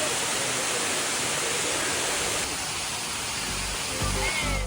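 Na Muang waterfall on Koh Samui roars as a dense, steady wash of falling water, loud and close, with a slight shift in tone partway through.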